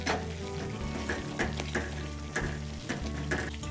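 Red chilli powder and garam masala get stirred around a hot cooking pan for a cashew paneer curry, with repeated short scraping strokes over a constant low hum and faint sizzle. No one talks.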